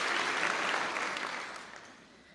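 Audience at a law school graduation and public service awards celebration claps in a dense burst of applause that fades gradually toward the end, with no speech over it.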